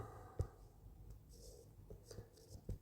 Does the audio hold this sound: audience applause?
no